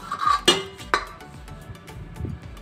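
Cauliflower florets tipped into a bowl for a cauliflower, carrot and chilli pickle, heard as a couple of sharp clattering knocks against the bowl followed by softer light clinks, close and clear, with no talking.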